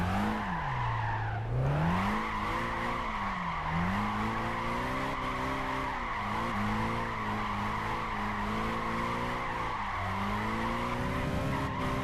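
A Mercedes C63 AMG race car engine in Gran Turismo 5 whines and rises and falls in pitch as tires squeal continuously through a long drifting slide, loud and up close.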